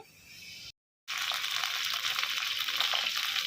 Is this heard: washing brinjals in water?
yes